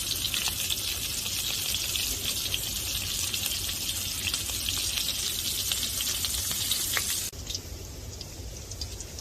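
Pork cracklings deep-frying in oil on their first fry, a loud dense bubbling hiss that drops suddenly to a quieter crackle toward the end.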